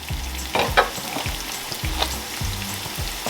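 Onions and garlic frying in a pan for mushroom and pea risotto, a steady close sizzle broken by repeated scraping stirs from a utensil, with no talking.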